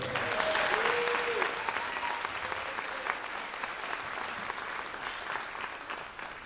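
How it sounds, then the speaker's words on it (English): Audience applause at a high school spring band concert fills the hall, a dense steady clapping that stays loud throughout with a few faint voices and tonal traces early on. "That's worth, I think, another round of applause."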